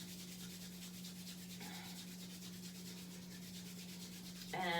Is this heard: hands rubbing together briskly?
yes